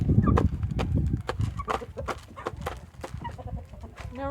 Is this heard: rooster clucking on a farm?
yes